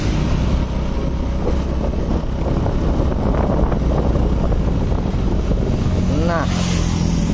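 A Honda motorcycle engine runs steadily near the microphone and holds around 3000 RPM, loud and continuous with some wind buffeting and a brief rising whine near the end.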